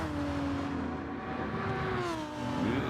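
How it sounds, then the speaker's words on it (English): Race cars sweep past on the Daytona circuit in a racing video game, engines whining in rising and falling pitch as they come through, with no talk over them. "here we have a nice shot of the cars coming through."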